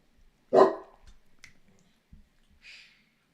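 One sharp, close dog bark rings out from a quiet room, followed by a few faint thumps and a soft breathy snort.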